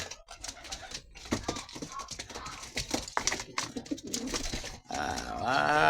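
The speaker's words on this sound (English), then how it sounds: "Little birds." Pigeons coo in a close, layered chorus, with overlapping throaty calls and busy fluttering and scratching sounds throughout, rising into a denser, steady burst of calls near the end.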